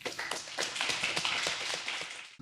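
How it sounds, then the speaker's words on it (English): A live audience at a startup pitch event in NYC applauds a founder coming up, a short spell of brisk, close clapping from a modest crowd with distinct individual claps, steady then tapering at the end. "Round of applause."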